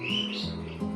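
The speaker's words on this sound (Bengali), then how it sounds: "শুধু পাখির ডাক ছাড়া আর কিছুই পাবেন না সেখানে" Birds call in a quiet park with a mini zoo at Joypurhat Shishu Udyan: a thin, steady whistled tone sounds throughout, over a low hum and with a brief lift near the end, and no voices.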